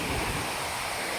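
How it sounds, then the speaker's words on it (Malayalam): Strong wind buffets the microphone at a hilltop viewpoint near Kottiyoor temple in Kannur, Kerala, a loud, steady broadband roar with low rumbling gusts and no talking. "എന്താ കാറ്റ്"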